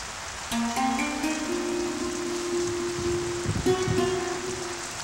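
Heavy monsoon rain falls steadily in a hiss that does not change through the scene. A sustained tonal drone sits over the downpour, and no voices are heard.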